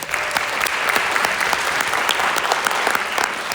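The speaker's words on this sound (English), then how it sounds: "Please give yourselves a round of applause" Students and audience at a high school music awards ceremony in Gates Chili, New York, give sustained, loud applause, a dense crowd of hands clapping evenly with no talk over it.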